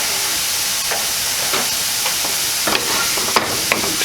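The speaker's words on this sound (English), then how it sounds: "keep stirring the onions just so they don't burn" Onions fry in a pan with a loud, steady sizzle and hiss, broken by repeated scraping strokes as they are stirred, with no talking.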